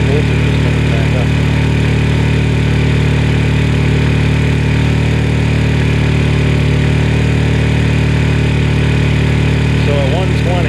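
A Honda EU2000i inverter generator runs steadily under electrical load, a loud, constant engine drone with a strong low hum and no gaps, while a voice is faintly heard over it.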